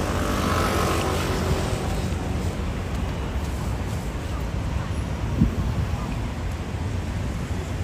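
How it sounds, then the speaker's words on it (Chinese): An airplane passes overhead in Taipei's Xinyi shopping district, a steady low roar that washes over the street ambience for several seconds, with a faint hint of voices nearby. "老师有飞机耶"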